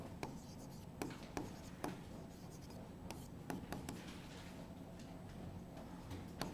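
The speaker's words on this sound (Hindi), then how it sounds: "अगला लिखेंगे वुडवर्थ।" Pen on paper writing by hand, very faint and steady, with soft scratching broken by light taps and clicks at irregular intervals.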